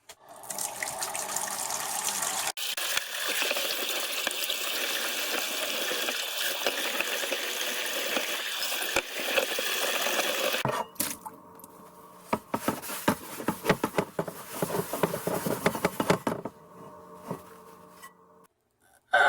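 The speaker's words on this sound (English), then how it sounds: "Let's give it another round with the steel wool." Steel wool scrubbing a cast iron pan under running tap water, a steady gushing wash with rough scraping, then a choppier stretch of intermittent splashing and scouring bursts before it trails off into near quiet.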